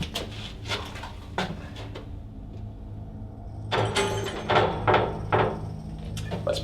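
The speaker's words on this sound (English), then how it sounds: "This door is very heavy." Heavy door in the Drakelow Tunnels being hauled open: a few dull knocks and clunks, a short lull, then a louder grinding, scraping groan with bumps as the weight swings, close by and with no talking.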